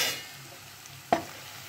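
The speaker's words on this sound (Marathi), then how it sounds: "आता हे एकजीव करून घेऊया।" Sesame powder stirred into cooked capsicum in a pan, a soft continuous sizzle with one sharp scrape of the spatula.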